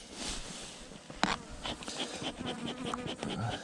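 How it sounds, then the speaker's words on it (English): Killer bees buzz around a hive outdoors, many insects droning close to the microphone with individual bees passing by, and a short knock or thud partway through. "It's probably because there's bees in the way."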